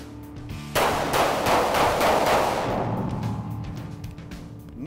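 Rapid gunshots fired while moving during shooting practice, a burst of sharp loud reports blending into a dense roar that fades over a few seconds.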